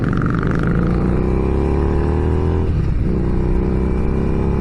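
A 2019 Harley-Davidson Street Rod motorcycle engine revs, a loud, rough continuous roar with a quick dip in pitch midway before building again, heard close and alone.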